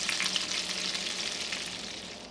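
Ham fries in a pan over medium-low heat, giving a steady, close, continuous sizzle with crackling that holds at an even level throughout, with no voices.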